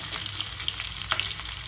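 Asafoetida and chopped green chillies fry in hot oil with cumin seeds, a close, steady crackling sizzle with a few small pops, heard alone.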